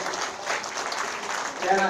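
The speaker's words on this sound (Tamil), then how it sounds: "கைதட்டுங்கய்யா." An audience at the First Asian Vallalar Conference applauds in a dense, continuous patter that swells slightly near the end, with a voice speaking over it.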